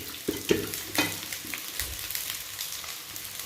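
Rice being stir-fried for chicken Schezwan fried rice, a close sizzle broken by rhythmic scraping and tossing strokes of a spatula in the pan.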